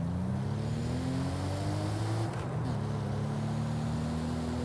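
Chaser GT Twin Turbo car engine in the Forza Horizon video game: a loud, steady droning engine whose pitch climbs, dips briefly around a shift midway, then holds and climbs again, with no talk.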